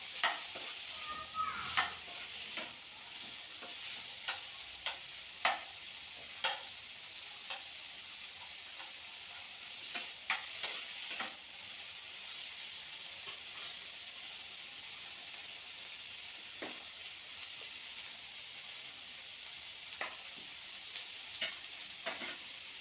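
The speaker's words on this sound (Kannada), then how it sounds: "ಸ್ವಲ್ಪ ಚೆನ್ನಾಗಿ ಫ್ರೈ ಆಗಬೇಕು, ಅಲ್ಲಿವರೆಗೂ ಚೆನ್ನಾಗಿ ಹುರ್ಕೋಬೇಕು." Green peas frying in a pan for aloo batani kurma, a soft steady sizzle with occasional scraping clicks as they are stirred, faint and close.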